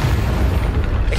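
A deep, heavy boom from a Confringo blast spell in the Hogwarts Legacy video game, filling the whole moment loud and close.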